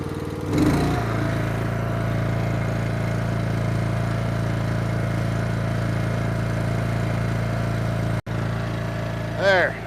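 The small gas engine of a log splitter runs outdoors in a spring snowstorm, opening with a brief rev-up and then settling into a steady, loud drone. It cuts out for a moment near the end.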